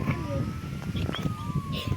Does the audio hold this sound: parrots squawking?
no